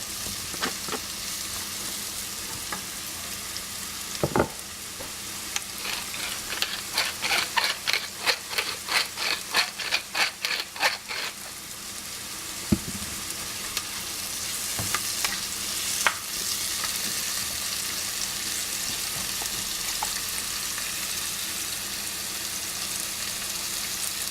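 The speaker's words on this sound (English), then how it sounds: "you're going to saute the vegetables for about 5 minutes" Vegetables for a vegetable lasagna sauté in a hot pan, a steady broadband sizzle with a burst of quick rhythmic stirring scrapes in the middle and occasional louder clinks, no voices.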